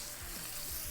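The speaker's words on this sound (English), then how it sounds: "Oh, look at that sizzle." Steaks sizzling in rendered beef tallow in a hot pan, a steady, close hiss of frying with a few soft crackles and bubbling, continuous and fairly loud with no talking.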